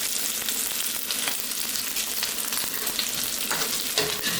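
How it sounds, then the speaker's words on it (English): Steak searing alongside frying bacon in a pan, with a loud, continuous crackling sizzle that stays dense and close throughout, with no voices. "we're just searing the steak."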